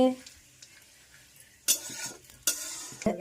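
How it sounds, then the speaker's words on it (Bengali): Whole spices dropped into hot oil for khichdi, a few sharp bursts of sizzling that flare up and fade, with some stirring and utensil clatter in a kitchen. "ফোড়ন গেছে তেলের মধ্যে"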